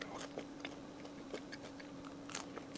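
Crunchy bites into a thin, wide, crispy onion bagel topped with sesame, several sharp crackling bursts spaced through a few seconds, close up and fairly quiet with a steady low hum underneath.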